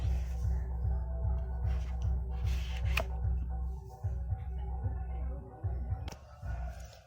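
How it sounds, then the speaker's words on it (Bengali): A knife cuts a papaya in a series of soft regular chops over a steady low hum, then the cutting turns irregular, with one sharp click. "এইভাবে সুন্দর করে পেঁপেটা কেটে নেব"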